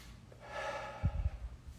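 A person exhales through the upper chest during a Tai Chi breathing exercise, giving a close, soft breathy rush of air that ends in a few faint nasal snorts.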